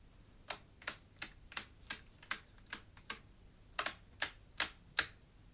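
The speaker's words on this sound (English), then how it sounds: "Operating the primary switches looks and sounds like this." Primary switches on a relay computer being flipped by hand, producing about fourteen sharp, crisp clicks at an uneven pace, some in quick pairs, close up and alone in a quiet room.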